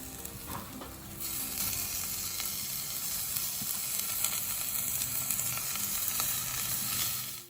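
Minced meat with garlic fries in a pan while being stirred, giving a loud, steady sizzle with scraping and stirring noises throughout.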